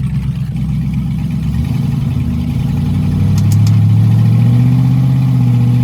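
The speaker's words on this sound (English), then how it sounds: "we're going to take it down the road one more time, see if it'll go into gear like it's supposed to" A car engine being driven down the road to test whether a faulty transmission shifts into gear, a steady mid-pitched drone that rises in loudness and pitch as it accelerates partway through, close and alone.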